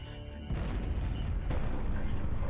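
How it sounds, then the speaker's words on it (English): Massive explosions from a target locator air strike in Halo Reach, two deep, loud blasts about a second apart, each rolling into a sustained low rumble. "It just blew up the entire map."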